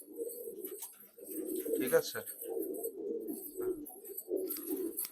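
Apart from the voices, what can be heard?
pigeons cooing, Reghdar and Madras breeding pair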